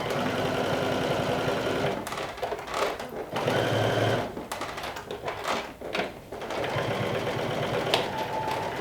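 Sewing machine stitching a side seam with a 3/8-inch seam allowance, a steady close rapid whir broken by short pauses and fabric handling.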